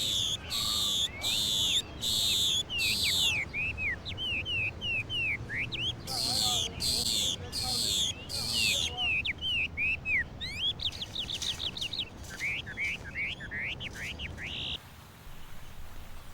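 Territorial male birds in spring in New York call back in a frenzy after an intruder-mimicking whistle, with bright repeated whistled phrases and rapid chirping bursts close by, overlapping and pausing, over a low ambient rumble.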